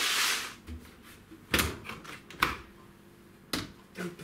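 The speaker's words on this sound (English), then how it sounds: "Open the door" A Beko tumble dryer door is pulled open indoors, with a few sharp clicks and clunks of the latch and door spaced over several seconds, close and fairly quiet.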